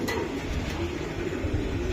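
Soft, steady cooing of racing pigeons runs through the clip over a low rumbling background, with no talking.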